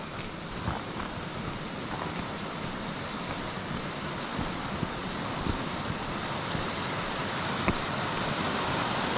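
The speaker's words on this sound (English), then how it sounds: "Nice whitewater rapids." Whitewater rapids on a burn in Kidland Forest, a steady, loud, broadband rush of tumbling water with no let-up, heard close and alone.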